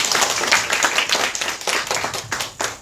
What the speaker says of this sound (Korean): 박수로 맞아주시고요.